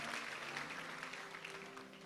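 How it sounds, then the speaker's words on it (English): A church congregation claps together as people take their seats, a steady, even wash of many hands at a fairly low level over a faint background hum. "Give the Lord a clap as you get seated."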